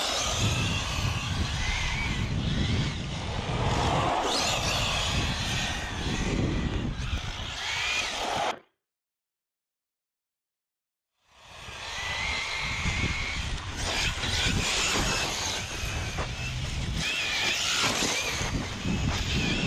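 An ARRMA Mojave EXB RC truck runs with a loud, continuous motor whine and rough driving noise that drops out briefly partway through, then resumes at full strength.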